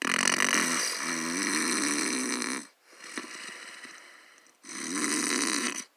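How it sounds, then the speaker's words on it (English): A man snores loudly, two long rumbling inhales with a rasping, fluttering rattle separated by a quieter breathy exhale, close and steady, with no talking. "His snoring soon filled the room like thunder."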